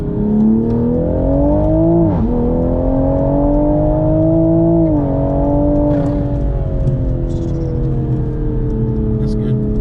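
A Toyota GR Supra tuned with a JB4, intake and catted downpipe pulls hard in second gear, its engine note climbing steadily and loudly with a couple of brief dips, heard close from inside the car.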